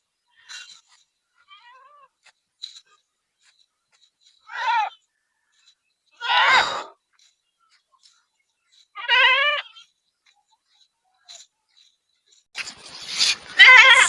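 A tethered goat bleats outdoors, several separate loud wavering calls spaced a few seconds apart amid near silence, with a brief voice and rustle at the end.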